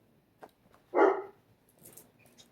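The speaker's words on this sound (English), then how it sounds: "They have not barked all morning until I try to do this reading." A house dog gives a single loud, close bark indoors, surrounded by near silence with only faint household noise.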